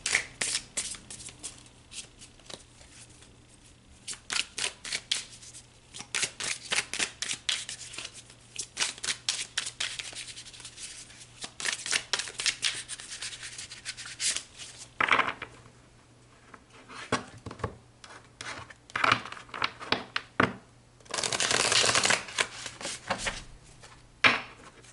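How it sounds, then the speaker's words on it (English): A deck of oracle cards being shuffled by hand, close and fairly quiet, in repeated rapid riffling bursts with short pauses, ending in a longer, denser riffle. "I'm going to shuffle these really well just to get the last reading's energy off the cards."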